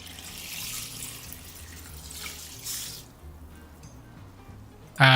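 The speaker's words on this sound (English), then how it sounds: "Fill the bowl with water." Tap water runs into a bowl of rice, a close, splashy rushing stream for about three seconds that then cuts off, with a voice faintly underneath.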